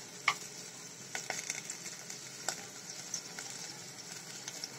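Ginger, garlic and cumin paste fries in a pan with a steady, moderate sizzle, punctuated by a few brief spatula clicks and stirring scrapes, heard alone without any talk.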